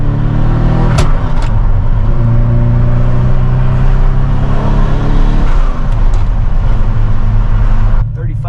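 A turbocharged restomod Ferrari engine drones steadily from inside the car while driving, loud and continuous with low harmonic hum and slight pitch shifts as speed changes, the drone cutting off near the end.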